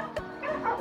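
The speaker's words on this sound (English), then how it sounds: "Look at all the dogs." Dogs give short yips and whimpering barks in a quick, close burst lasting under a second.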